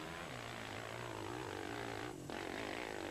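A big 620 stroker motorcycle engine revs at a hillclimb, a steady droning roar with a wavering pitch that dips briefly for a moment near the end, heard from some distance.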